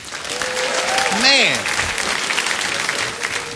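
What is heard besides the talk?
comedy club audience applause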